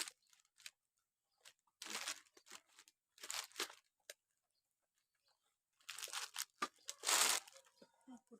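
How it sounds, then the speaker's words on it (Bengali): A tengra fish being cut and cleaned by hand close by, giving several separate bursts of crunchy, tearing scrapes with quiet gaps between them. "দেখুন কুটে নিচ্ছি মাছটা"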